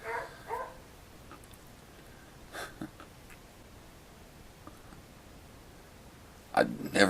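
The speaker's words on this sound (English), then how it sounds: "I never hear that dog bark" A dog barks a few times in the distance at the start, with a louder bark near the end; a quiet room otherwise.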